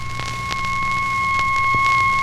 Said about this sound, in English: the on-course position, which is marked by a blending of the A and N signals